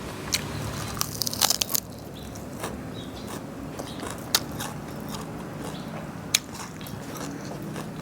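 Crisp crunching bites and chewing of a crunchy Thai beef salad up close, irregular crackles over a quiet background with no talking.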